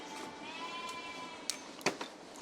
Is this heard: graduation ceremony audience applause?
no